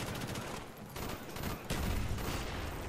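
Rapid SIM-16 rifle fire in the video game Black Ops 1, a dense, continuous stream of loud shots with a heavier burst near the end and no pause between them.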